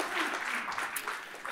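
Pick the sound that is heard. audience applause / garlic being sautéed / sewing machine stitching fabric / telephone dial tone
audience applause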